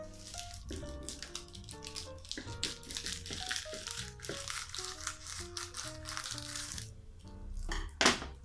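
A dollhouse collection kit is unwrapped from plastic packaging, with continuous crinkling and rustling of plastic over background music, ending in a sharper crackle.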